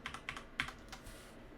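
Quick bursts of keystrokes on a computer keyboard while entering a password at a Linux terminal, a few close, crisp clicks in short clusters with brief pauses between.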